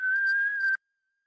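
A voice imitates wind whistling through a cracked hotel-room window, producing one steady, close, clear whistled tone that holds for under a second before cutting off into silence.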